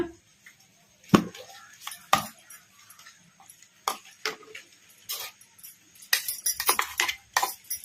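Sharp clinks and knocks from the lid being pulled off a mixer grinder jar holding freshly ground spice paste for masala buttermilk, a few scattered close taps followed by a quicker cluster of clatters, with no voices.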